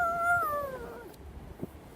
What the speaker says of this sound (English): there came a strange howling, a grim, ghoulish groaning, a terrible yowling.